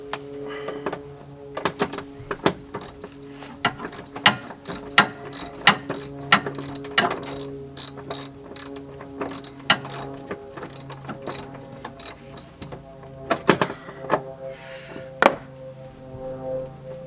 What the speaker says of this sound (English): I'm going to use a 10mm deep socket.